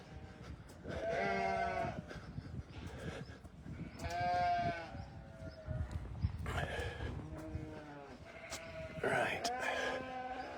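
Racing sheep bleat over and over, several animals calling in turn at close range, with wavering cries breaking through a shuffling background and occasional talk.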